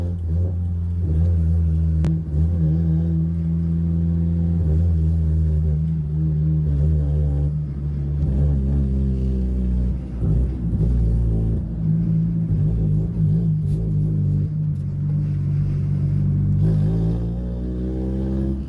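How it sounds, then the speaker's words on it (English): A Honda engine revs hard as VTEC kicks in, a loud, sustained, buzzing drone whose pitch climbs and shifts throughout, with no talking. "Ooh, you hear that VTEC kicking in."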